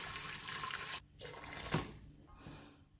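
Boiling water pours from a kettle into a cooking pot, a steady splashing gush that breaks off briefly and resumes, close by with no talk.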